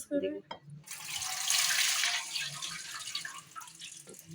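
Running water pours as poppy seeds are rinsed, a steady close splashing and gushing stream that starts after a brief voice and continues under occasional light dripping and handling sounds.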